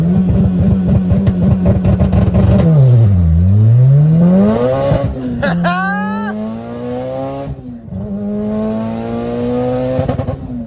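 An all-wheel-drive car launches hard from a standstill, its engine revving loudly and climbing through repeated rising sweeps as it shifts, close and dominant throughout.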